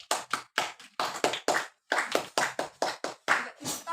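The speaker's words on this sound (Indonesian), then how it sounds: "Berikan tepuk tangan kepada Reni." Classroom applause during a microteaching practice session, a small group clapping in quick, close, distinct bursts with short pauses between them, fairly near and crisp.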